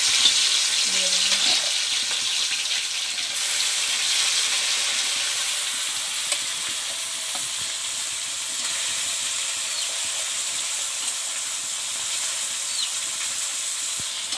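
Small fish sizzling in hot oil for a fish curry, a steady, loud, continuous frying hiss that holds evenly throughout with no break.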